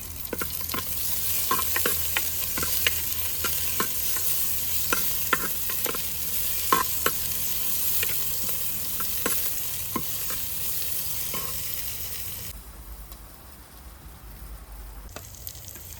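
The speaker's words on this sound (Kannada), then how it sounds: "ಒಂದು ನಿಮಿಷ ಬಾಡ್ಕೊಂಡ್ರೆ ಸಾಕ." Green chili, ginger and tomato sautéing in a pan for a Kundapura-style fish curry, a steady loud sizzle with repeated spatula scrapes and taps, easing to a quieter hiss near the end.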